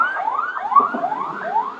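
A siren wails in repeated rising sweeps, about four cycles in quick succession, steady and fairly loud with no voices over it.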